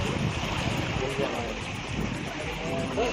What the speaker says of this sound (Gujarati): મોજા